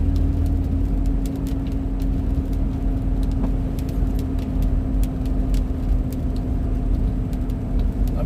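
Road traffic rolls past on a rural road toward Virginia, a continuous engine hum and tire noise from inside a moving vehicle, with a steady drone and a few faint clicks and bumps.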